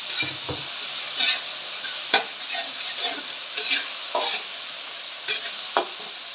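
Tomatoes being sautéed in a pan, with a steady sizzle broken by repeated scraping stirs of a utensil at an irregular pace, close and moderately loud.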